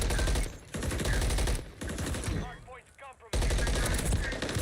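Gunfire in the Warzone video game: loud, rapid automatic bursts rattle in several long stretches, with a short pause midway where a voice is faintly heard before the firing resumes.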